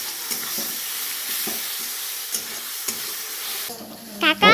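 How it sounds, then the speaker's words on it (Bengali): Garlic paste fries in a pan with a continuous loud sizzle and periodic scraping stirs, ending in a few clattering knocks of the spoon against the pan. "রসুন বাটাটা একটু বেশি ভেজে নেব, কারণ রসুনের একটা গন্ধ বের হয়, সেই কারণে এটা আগে ভেজে নিচ্ছি।"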